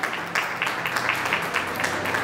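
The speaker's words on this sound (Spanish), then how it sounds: "Fuerte el aplauso para recibirla." Audience applause welcoming a children's book author onto a stage at an event, a steady wash of clapping with slight swells throughout.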